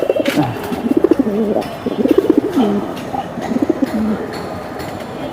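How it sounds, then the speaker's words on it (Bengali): Pigeons coo close by in repeated throaty, rolling bursts, several phrases in a row with brief pauses. "এটা বশির ভাই লাইনের কবুতর ভাই লাইনের কবুতর সাইজ ক্যাটাগরি কালার"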